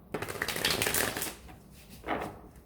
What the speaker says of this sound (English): Two more shuffles for Aquarius, please, and we are ready.